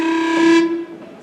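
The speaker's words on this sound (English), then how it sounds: "You can also do some fun things like flutter tonguing," A single sustained clarinet tone played with flutter tonguing, reedy with a rough, buzzing flutter, held steady for about a second before tapering off.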